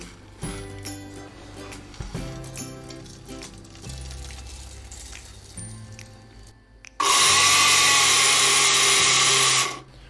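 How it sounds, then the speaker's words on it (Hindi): An electric grinder jug whirs loudly as it grinds peanuts and melon seeds for jaggery and sesame laddu, a steady high roar that runs about three seconds after softer kitchen clatter and handling noises. "इसको मैंने डाल देना है इस ग्राइंडर के जग में"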